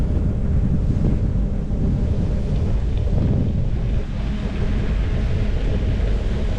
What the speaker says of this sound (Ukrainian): ох і вітер